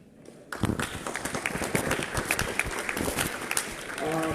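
Audience applause at a conference, starting abruptly and holding as a dense, steady clapping from a crowd, with a voice speaking over the end.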